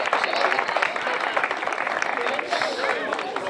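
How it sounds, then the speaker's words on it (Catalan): Applause and cheering from an audience at a Catalan trail running championship award ceremony, steady and fairly close, with a voice talking over the clapping. "Un fort aplaudiment per aquestes tres cracs, la Maria, la Laia i la Aroa."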